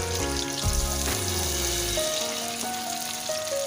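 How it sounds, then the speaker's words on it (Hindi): Onions browning in a pan for palak chicken, giving a loud, continuous close-up sizzle and hiss with a few clinks of stirring and no talking. "प्याज को अच्छे से ब्राउन होने दें।"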